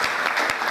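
An audience at a college function claps steadily and warmly for senior college students in a brief, dense burst of applause.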